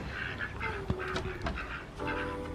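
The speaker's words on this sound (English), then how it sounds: "They're such big ducks." Several large ducks quack repeatedly at close range, overlapping calls in short bursts against steady background noise.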